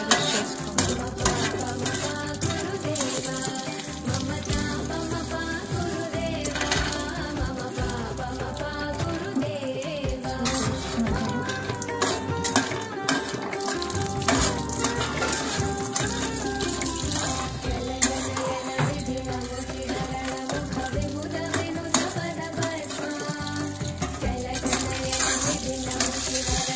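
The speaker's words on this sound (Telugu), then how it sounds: "ఒకసారి నెయ్యిలో అలా ఫ్రై చేసుకొని ఒక బౌల్లో తీసేసుకోవాలి." Cashew nuts fry in ghee with a continuous busy sizzle, overlaid by scraping and stirring clatter from a utensil in the pan.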